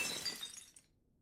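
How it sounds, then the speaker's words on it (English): Glass shatters loudly in a cartoon, a bright crash with tinkling fragments that decays within about a second into quiet. "Breaking Glass, premium."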